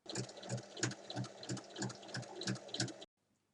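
A sewing machine stitches along folded fabric strips in a steady, rhythmic throb of close needle strokes for about three seconds, then stops.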